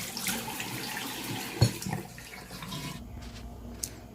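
Water splashing and running as ginseng seeds are soaked, a low steady watery wash with a brief splash midway that fades quieter toward the end, with no talk.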